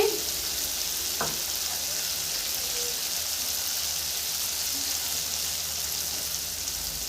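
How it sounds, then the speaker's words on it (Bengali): Spice masala for butter paneer fries in a pan with a continuous, even sizzle. There are no voices and no breaks, and the sizzle holds at a steady level throughout. "এটাও 1 মিনিট কষিয়ে নিব।"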